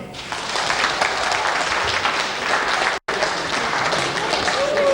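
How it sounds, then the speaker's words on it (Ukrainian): Audience applause at a concert presentation in Ivano-Frankivsk, a steady broad wash of clapping from a sizeable crowd, briefly cut by a short dropout midway, then continuing at the same level. "Звичайно, їм оплески."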